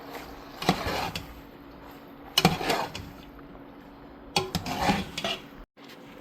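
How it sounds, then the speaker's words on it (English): Rasta pasta being mixed in a metal pan, with a utensil clattering and scraping against it in three distinct bursts separated by quieter pauses, close and fairly loud. "now I'm gonna mix this together"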